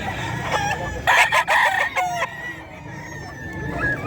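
A White Kelso rooster crows at a busy pet market, its bright, ringing call rising over a steady background of bird clucks and crowd noise.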